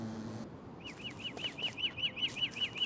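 Birds chirping in the video game Don't Starve, a run of short repeated chirps in quick regular succession after a brief pause, clear and fairly close over a low ambient hum.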